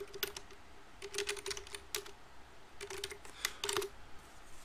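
Someone types on a computer keyboard during an online card game: quick, irregular bursts of close, crisp key clicks with short pauses between them and no talking.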